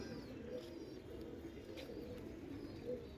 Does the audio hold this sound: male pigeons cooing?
yes